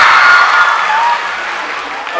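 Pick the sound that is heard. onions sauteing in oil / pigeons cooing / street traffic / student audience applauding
student audience applauding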